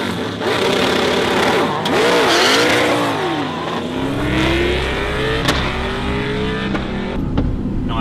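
A race car launches hard, its engine revving high and sweeping up through rising pitches in loud, close bursts with sharp shifts between them, heard on its own without talk.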